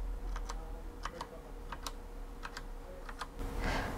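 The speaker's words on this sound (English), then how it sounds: "As you push them, you can hear a click as each key is activated." A mechanical gaming keyboard with green click-type switches is typed on, giving sharp, crisp clicks in an irregular rhythm, close and fairly quiet over a low background hum.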